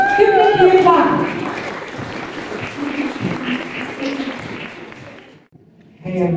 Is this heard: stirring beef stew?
no